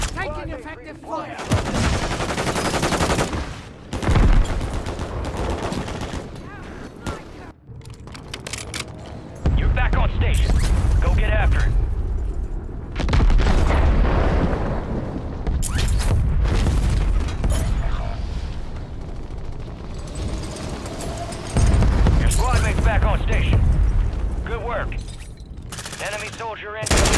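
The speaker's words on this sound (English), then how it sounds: "Taking effective fire" Call of Duty firefight with bursts of machine-gun fire and heavy booms, loud and close, coming in waves with brief lulls, while voices call out between and over the shots.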